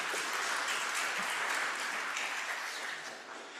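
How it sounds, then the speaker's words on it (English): Faint, steady applause from attendees at an annual council meeting, continuous clapping for several seconds that softens slightly at the end. "Keeping you here, Joan, we can hit that with applause."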